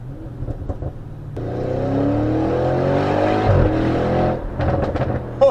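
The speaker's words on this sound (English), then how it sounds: "When the exhaust system bounces off against the walls, the rock face, sorry, it sounds incredible." A 730 bhp Audi RS6 exhaust revs hard under throttle beside a rock face, the engine note climbing in a sustained, loud surge before dropping back to crackles and pops.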